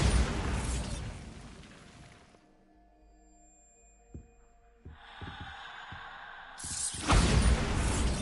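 Bombarda and Confringo blasting spells cast in Hogwarts Legacy: heavy, roaring explosion bursts open and close the stretch, with sharp pops and thuds and a faint ringing tone in the quieter middle.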